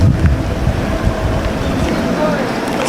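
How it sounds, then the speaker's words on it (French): Steady outdoor wind rushing and buffeting the microphone out in open nature near the coast at Jacqueville, Côte d'Ivoire, a continuous low roar with a faint wash like waves underneath. "il y a du bon vent en plus"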